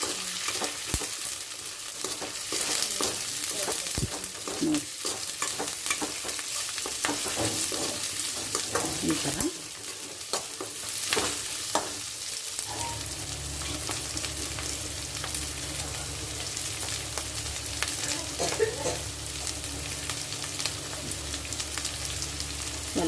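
Capsicum and onion sizzle steadily in a hot pan, with irregular scraping and clattering as they are stirred, loud and close throughout.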